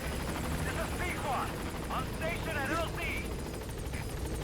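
In-game helicopter from Metal Gear Solid V, a constant rotor hum and wash that runs throughout while someone speaks over it in short bursts.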